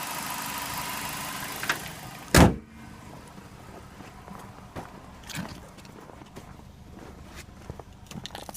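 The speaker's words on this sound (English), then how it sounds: "Car still running." A Saturn Ion car engine idles steadily with the keys removed from the ignition switch, a low continuous rumble under a sharp loud thump, likely a door, with faint footsteps and handling noises.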